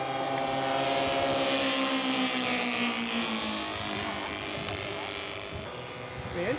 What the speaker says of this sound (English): The engines are running nice. Nice and smooth.